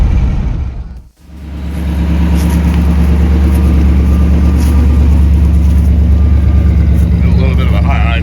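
1958 Buick Roadmaster engine with a newly installed exhaust system idling high, a loud, close, steady deep rumble that dips briefly and then settles into a continuous drone.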